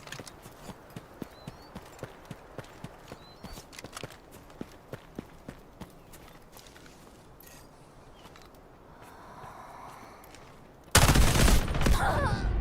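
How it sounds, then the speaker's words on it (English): Firefight in the video game Delta Force, with scattered distant gunshots cracking at irregular intervals over a steady background, then a sudden loud burst of gunfire near the end. "Oh, shots. They're in a fight."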